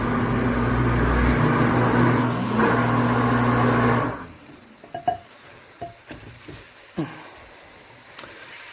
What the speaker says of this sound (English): It just breaks up your burger like nothing.